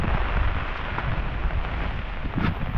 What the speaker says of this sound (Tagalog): Nagkukuha ng ulan mga kabayan.